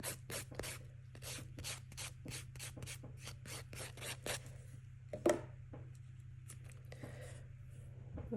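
A lower-grit file rasps around a natural fingernail in quick, evenly spaced strokes, each a short scratchy burst, close and soft over a low steady hum, trailing off into a few slower strokes.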